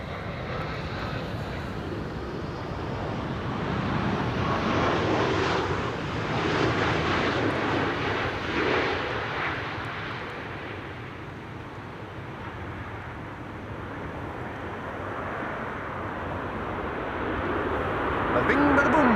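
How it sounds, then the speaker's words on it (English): KLM Boeing 787-10 Dreamliner in 100-year livery arriving at Amsterdam Schiphol, a broad steady jet roar that swells near the middle and again toward the end, with people talking over it. "Up next, 787-10 Dreamliner."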